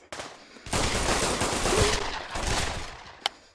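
Sustained suppressing gunfire in the VR shooter Pavlov rattles loud and continuous for about three seconds, thinning briefly in the middle, with one sharp final crack near the end.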